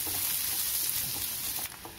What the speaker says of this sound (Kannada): 1 medium size ಈರುಳ್ಳಿನ ಈ ರೀತಿ ಹೆಚ್ಕೊಂಡು ಹಾಕ್ತಾ ಇದ್ದೀನಿ